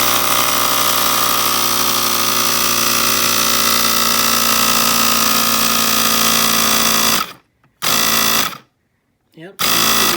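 A pump pressurizing a homemade exploding target container runs with a steady loud mechanical drone for about seven seconds, then cuts off, briefly restarts, stops again and resumes near the end.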